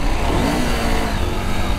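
A Husqvarna Norden 901 adventure motorcycle in off-road mode with traction control on, engine revving hard and steady as the rear wheel spins on loose ground, loud and close throughout.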